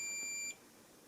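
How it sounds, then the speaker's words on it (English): A multimeter's continuity tester gives one brief steady high beep for about half a second as it probes a charging capacitor in a large Li-ion charger power supply, then falls quiet. "it momentarily beeps like a short circuit, but it's not"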